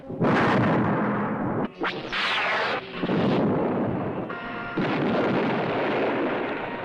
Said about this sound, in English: There are so many fucking explosions here.